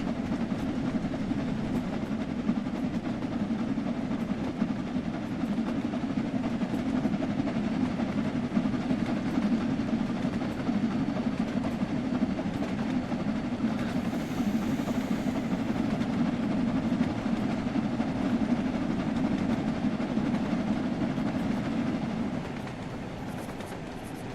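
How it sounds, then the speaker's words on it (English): Steam locomotive running along the track in Train Sim World 5 with the regulator fully open at around 25 mph, a steady loud rumble and rolling chuff that holds constant throughout, with faint clickety-clack and no talk. "the sound of the train doesn't even seem like it's matching the speed of the wheels"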